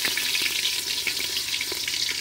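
Chopped onion frying in hot soybean oil, a dense hissing crackle with occasional small pops, close and steady, no voices.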